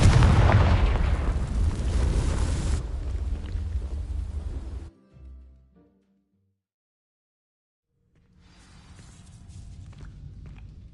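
A Confringo fire spell in Hogwarts Legacy bursts into dry vines with a loud, roaring blast and crackling burn, then fades to silence before a low ambient rumble returns.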